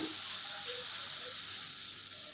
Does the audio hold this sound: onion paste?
yes